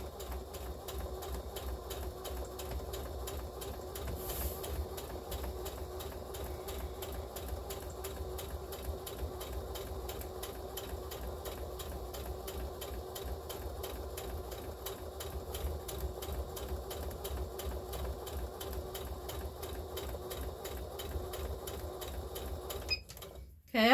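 A sewing machine stitches up the side of a tote bag, a steady rapid mechanical whir and needle chatter running for about twenty seconds before stopping abruptly near the end; no talking.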